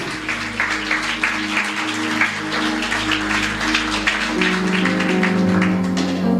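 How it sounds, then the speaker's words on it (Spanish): A church congregation claps steadily and warmly over sustained music, the applause continuing throughout without pause. "Si puede, darle un aplauso al Señor en esta hermosa mañana."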